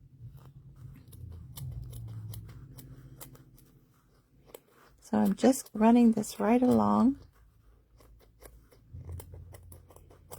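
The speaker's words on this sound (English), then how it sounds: "I could have used a sharper pair of little scissors." Small, fairly dull scissors snip through quilt fabric in quick close crisp cuts, a short burst of snipping amid quiet stretches, with a person talking briefly in the middle.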